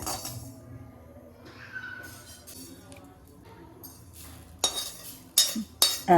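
A heavy oil frying pan for making Karthigai aval pori is handled, with faint scrapes and low clatter at first, then several loud metallic clanks toward the end, close by, with a voice faintly present.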